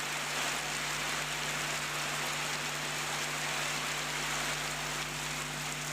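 Heavy rain at a village vegetable market in Jhenaidah, a steady, fairly faint wash of hiss with a low constant hum beneath, no voices.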